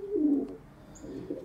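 A racing pigeon in its loft gives a soft, low coo, a short rolling call at the start and a fainter one near the end, close by with no talk.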